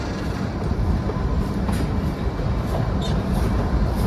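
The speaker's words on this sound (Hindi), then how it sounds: "यहाँ पे ट्रेन रुकने वाला है।" Kalka-Shimla narrow-gauge toy train rolling into Barog station, a steady broadband rumble of wheels and carriages with faint high squeaks near the end, continuous and fairly loud with no talking.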